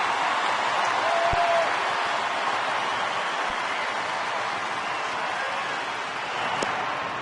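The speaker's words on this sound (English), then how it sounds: "Crowd's into it" Baseball stadium crowd at a Brewers home game with a full count and two outs in the ninth: a steady, loud wash of cheering and crowd noise running throughout, with a brief whistle-like tone early on.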